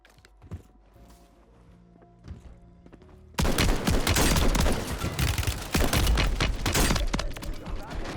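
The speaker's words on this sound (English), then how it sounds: "Fire shotgun for the win." Shotgun blasts in Call of Duty Warzone on Rebirth Island, after a quiet stretch with a faint announcer voice: loud, dense gunfire and booms that fill the rest of the clip.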